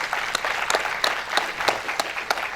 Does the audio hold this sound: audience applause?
yes